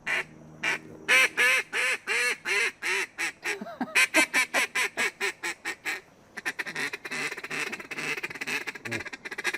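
Handheld duck calls imitating ducks: a rapid series of loud, nasal quacks in rhythmic bursts, then a faster chattering run of shorter calls, close and alone.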